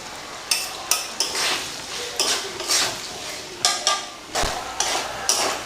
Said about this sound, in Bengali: এখন আমি ভেজে রাখা আলুগুলোকে দিয়ে দেব।